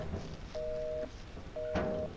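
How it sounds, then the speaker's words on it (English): Telephone tone from a phone box in a video game, two steady beeps each lasting about half a second over a faint background hum. "Oh, it's just dial tone."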